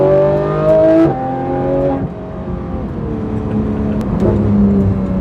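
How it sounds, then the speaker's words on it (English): A tuned Porsche 911 GT3 RS engine rumbles and revs, pitch rising and dipping through a few shifts in the cabin during a drive, loud and continuous with no talking. "Just hearing the car just rumble"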